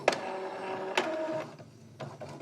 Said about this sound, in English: So it's printing